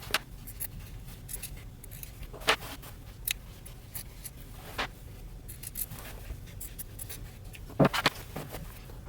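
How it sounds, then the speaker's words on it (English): Scissors snip the hem off a men's button-up shirt sleeve, a series of short, sharp, irregular cuts close by over quiet background rustling. "I'm also going to cut the hem off of the sleeve."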